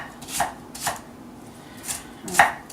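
A knife chops onions for potato soup on a cutting board, with a handful of sharp, separate thuds spaced unevenly, close and fairly loud against a quiet kitchen.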